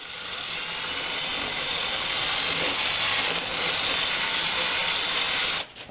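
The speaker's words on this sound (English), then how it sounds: "we're just going to take my end mill and do this by hand here" Continuous high-pitched whirring and grinding of an end mill cutting a Briggs & Stratton primer plate by hand, steady and close for several seconds before stopping abruptly near the end.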